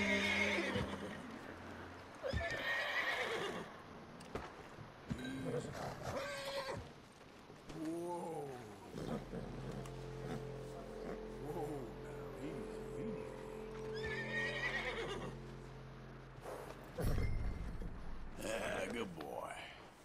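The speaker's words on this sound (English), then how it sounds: "And we got a horse." A horse in the Western video game Red Dead Redemption neighs and whinnies several times with clip-clopping hooves, mixed among game effects, engine-like hums and someone talking.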